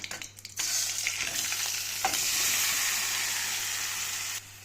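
A loud, steady sizzle bursts out as ingredients for a sweet tomato chutney go into a little hot oil crackling with popped mustard seeds and dried red chilies, holding strong with small pops and crackles throughout.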